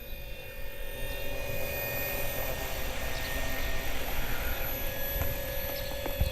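A twin-engine Avios Albatross 1.6 m RC seaplane taxis on water toward shore, its electric motors giving a steady, buzzing whine at moderate distance over faint splashing and outdoor background.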